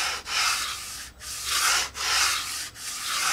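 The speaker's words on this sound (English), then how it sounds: "You can actually hear it as I'm sanding it, it gets quieter." A foam sanding block rubs back and forth over the painted wing of a Warbirds Replicas FW190 model aircraft, producing close, rhythmic hissing strokes with brief pauses between each pass.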